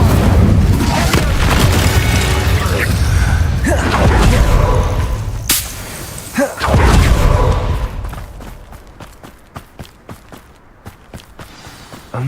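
Incendio fire spell cast in the video game Hogwarts Legacy, a loud booming whoosh of flame with heavy rumbling blasts early on, followed by a quieter stretch of rhythmic footsteps, with a voice briefly speaking.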